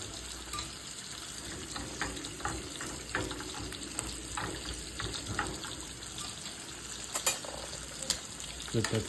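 Steak frying in a pan on medium heat gives a steady, close sizzle with scattered crackles and utensil clicks, continuous throughout with no talking.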